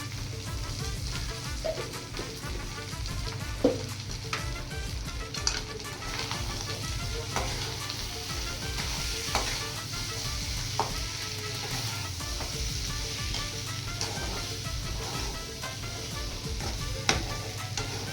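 Potatoes fry in a little oil, a continuous crackling sizzle close up with occasional stirring clinks and scrapes, no voices.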